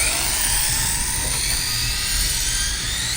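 Arrma Typhon RC car on a 6S battery held at full throttle, a loud, steady high-pitched electric motor whine close by with no talking.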